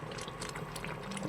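Vegetarian gourd kofta curry boiling in a pot, a soft continuous bubbling and gentle popping simmer heard close and faint, with no talk.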